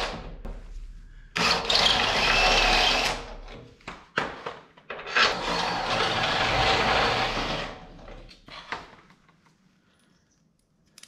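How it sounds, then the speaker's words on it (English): A step drill bit grinds through metal to widen holes on a 1955 Chevy's tubular control arms, with two long loud whining bursts, the second about three seconds long, separated by short clatters and tailing off into quiet. "So we got to grab the uni bit or whatever it's called and make our holes just a teeny smidgy bigger."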